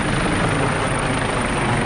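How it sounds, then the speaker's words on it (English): A firefighting helicopter works over a burning Bel Air neighborhood during the California wildfires. Its steady, loud, dense rotor and engine roar fills the air overhead without a break, and no one speaks. "There's a helicopter overhead now."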